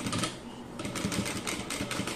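A domestic sewing machine stitches fabric a quarter inch from the edge, running steadily with a dense, rapid mechanical whir. It is loud and continuous with slight pulsing, and no one speaks.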